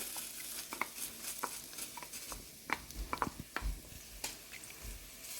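Chopped garlic, ginger and green chili sautéing in a little oil, a faint soft sizzle with intermittent spoon-stirring clicks and scrapes close by, no speech.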